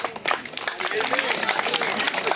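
Secondary school students clapping in a crowd at a school gathering in Kibuku district, Uganda, dense and steady applause with a voice or cheer mixed in underneath.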